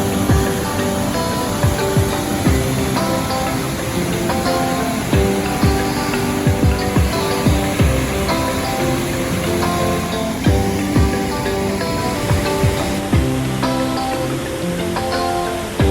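Waterfalls in the gorge of the Coulonge River in Quebec roar as a steady, dense rush of falling water, loud and continuous throughout with no voices.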